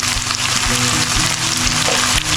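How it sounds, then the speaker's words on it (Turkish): Shallots hit a hot pan of browning lamb and sizzle loudly and steadily, a close, dense frying hiss with faint stirring. "Etimizi 5 dakika kavurduktan sonra arpacık soğanlarımı atıyorum."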